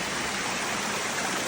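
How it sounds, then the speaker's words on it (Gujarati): Water trickles down a stone retaining wall in a hillside tribal village in south Gujarat, a brief, even, close wash of splashing with no voices. "એ પથ્થરમાંથી પાણી પડતું છે"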